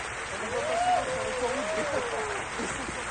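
Cabaret audience applauding a performer, a steady wash of many hands clapping through the whole stretch with a thin whistle rising and falling over it.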